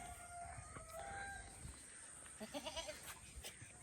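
A newly bought goat, restless on its first day, bleats in a short series of rhythmic calls near the end, faint against quiet farmyard background with a rooster-like call earlier.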